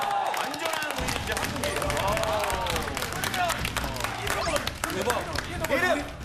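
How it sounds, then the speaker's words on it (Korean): Studio audience applause on a Korean variety talk show, a dense steady patter of claps running throughout, mixed with voices talking and laughing over it. "박수 한번 주시기 바랍니다."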